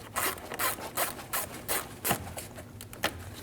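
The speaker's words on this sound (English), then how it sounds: "Using a T15 bit, remove the screw on the side of the air intake." A T15 Torx screw is backed out of the side of the air intake on a 2012-2022 Volkswagen Passat with the bumper removed, giving a series of short close scraping, ratcheting rasps in an irregular rhythm, with no voices.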